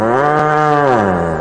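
A single loud, drawn-out cattle moo, deep and strongly harmonic, sounding clearly up front as a sampled effect within an arrocha dance track.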